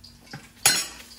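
A spoon gives a soft tap, then a sharper clink as meatballs are set into hot oil for spaghetti and meatballs. A short, bright burst of sizzle follows and fades over the next half second.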